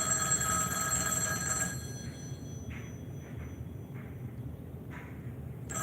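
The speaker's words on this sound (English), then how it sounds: "I'll wait till the ringing's done to start up with number 19." Telephone ringing in a room, a faint steady electronic ring lasting under two seconds, then only quiet background rumble with a few soft taps and no talking.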